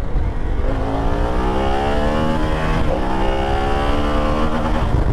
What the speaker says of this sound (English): let's do some roll-on throttle here